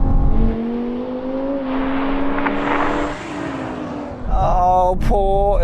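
A BMW M5 V10 Touring accelerates hard in a drag race, the engine note climbing through the gears with a brief dip at a shift before surging again loud and close.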